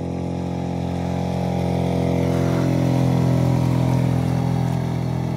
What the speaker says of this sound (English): And I can hear by the engine, it's not running proper